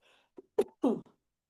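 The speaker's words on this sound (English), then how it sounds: "excuse me, I'm going to cough." A few short, sharp coughs in quick succession, close to the microphone, followed by silence.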